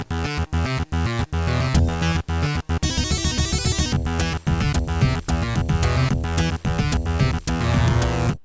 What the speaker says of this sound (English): If you just had a regular old Sound Blaster, Doom would sound like this.